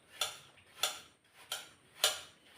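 Knife thinly slicing breadfruit on a cutting board, four crisp evenly spaced chops about half a second apart, close and clear with no talk.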